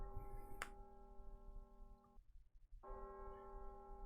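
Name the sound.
church bell tolling in the video game Fate/Grand Order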